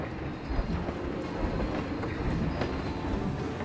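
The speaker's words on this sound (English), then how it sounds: "The Festival Express. I'm assuming there's a train in here." A train in the theme-park game Planet Coaster rolls past with a continuous broadband rumble and faint clatter. It holds at an even, moderate level with no talking.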